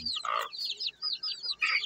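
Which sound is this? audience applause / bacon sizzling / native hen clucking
native hen clucking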